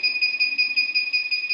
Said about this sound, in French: Si une fois par hasard que c'est trop chaud aussi, ici c'est écrit high et vous allez voir, ça va sonner